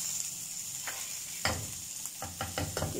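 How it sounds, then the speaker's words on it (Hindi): Chicken frying in a pan for cabbage vegetable rolls, a steady sizzle with occasional stirring and scraping bursts toward the end, close and moderately loud with no talking. "बस चिकन को जरा अच्छी तरह फ्राई कर लें"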